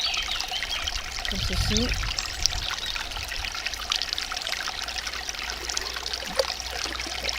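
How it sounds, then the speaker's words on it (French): Stream water is poured into a Katadyn MyBottle filter bottle, a steady trickling pour under someone speaking French, with a constant outdoor background hiss. "nous allons la remplir avec de l'eau que nous avons trouvée sur notre chemin"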